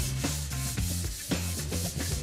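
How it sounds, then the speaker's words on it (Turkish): Sandpaper rubs over a wall in a room being redone, a steady back-and-forth scratching in repeated strokes, close and loud with no talking. "İlk işimiz zımpara yapmak."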